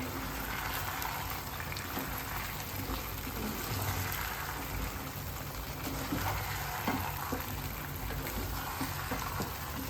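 Fried paneer for chilli paneer is stirred in a pan, giving a steady, fairly quiet bubbling sizzle with faint scraping and no talking.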